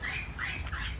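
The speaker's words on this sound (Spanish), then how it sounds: "Un pavo real." A peacock calls with a loud, harsh squawk, two or three wailing cries in quick succession outdoors in a park, fairly close.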